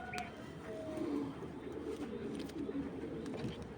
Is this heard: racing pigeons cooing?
yes